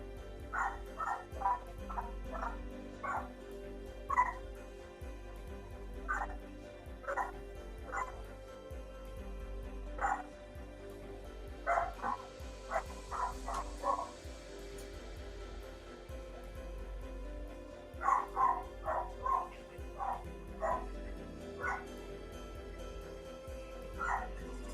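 A pet dog barks wildly in a nearby room, sharp yips coming in scattered clusters with short pauses between, moderately loud over a quiet indoor background.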